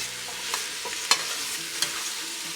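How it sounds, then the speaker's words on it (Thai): Shallots stir-frying in a pan over lowered heat for a tomato sauce, with a steady soft sizzle and a few sharp scrape-and-clack strokes of the spatula at irregular intervals. "เขาก็จะคั่วไปจนกว่าหอมมันจะสุกแล้วค่ะ"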